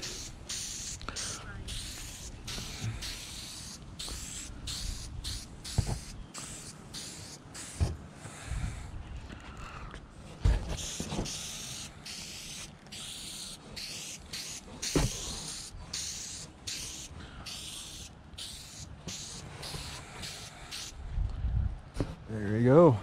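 Spray paint is applied to Cuda rocker moldings outdoors on a windy day: repeated short hissing bursts with brief gaps between them, while someone talks and wind buffets in the background.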